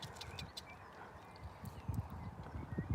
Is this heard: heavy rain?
no